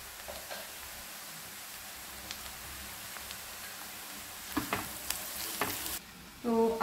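Onions and potatoes sizzle in oil in a frying pan, a soft steady crackle with occasional sharper pops and a louder burst of stirring near the end.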